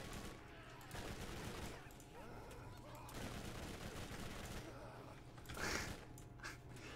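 Rapid gunfire from a gun in the Borderlands video game rattles in continuous bursts at a fairly low level, with occasional brief pauses and a sharper blast near the end.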